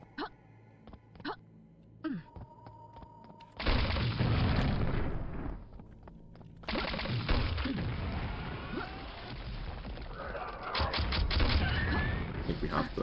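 Rocket explosions in the video game Quake: after a few quieter seconds, a dense, loud run of booming blasts keeps going almost without a break, with one short lull in the middle.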